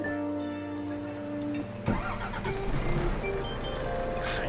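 A truck engine in Euro Truck Simulator 2 idles with a steady harmonic drone, then a sharp mechanical clunk gives way to a louder, rougher, rumbling engine roar.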